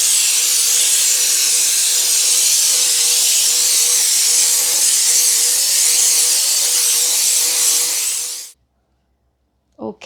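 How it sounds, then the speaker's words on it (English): A Shark steam cleaner blasts steam over a kitchen sink in a loud, continuous hiss that holds steady, then cuts off abruptly, leaving near silence with a faint click at the end. "Now I'm gonna go and steam my sink."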